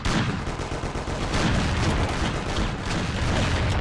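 Gunfire in the Mafia video game comes as a dense, continuous barrage of loud, close shots with booming impacts, one burst after another with no pause.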